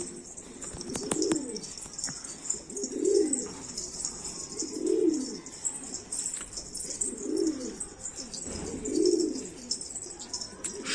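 Pigeons coo softly at a steady pace in a pigeon loft, five low rolling calls over a constant background hiss.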